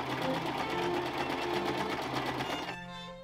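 A sewing machine stitches close along the edge of a Regency corset, running in a fast, steady, even whir that cuts off abruptly near the end.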